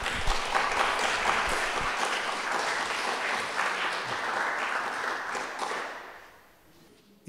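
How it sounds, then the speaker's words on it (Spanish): Sustained audience applause greets a philosophy lecturer at a university event, a dense wash of many hands clapping that holds steady before fading out near the end. "Lo recibimos con un aplauso"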